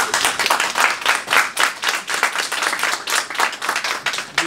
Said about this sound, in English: If I could ask everyone to just hold their applause so we can have the discussion.